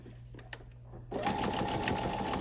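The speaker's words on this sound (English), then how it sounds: "now that I'm approaching that dot, I'm going to go ahead and back stitch" A sewing machine starts up about halfway through and runs steadily while back stitching, a close, fast whirring hum after a quiet opening.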